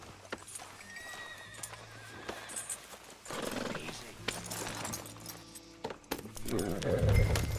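Horse hooves clip-clopping as riders travel on horseback in Red Dead Redemption 2, with a horse neighing and tack jingling, the steady hoof rhythm under a game soundscape that swells louder toward the end.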